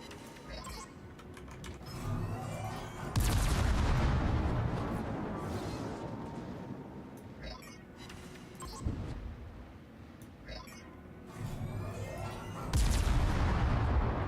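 Heavy warship guns boom in World of Warships, with loud blasts near 3 and 13 seconds followed by long rumbling decay over continuous low engine and sea noise.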